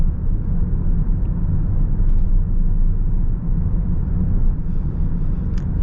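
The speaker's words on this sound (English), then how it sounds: "Do get a bit of tire noise, but that's because you're so close to the ground" Steady low road rumble and tire roar fill the cabin of a moving 2025 Toyota Prius XLE AWD, a constant dense drone with no voices over it.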